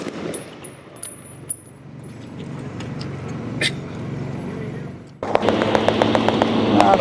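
Uniformed reenactors fire a volley outdoors on a morning walk, a sharp loud burst after a shouted command, followed by scattered crackling shots and murmuring crowd noise.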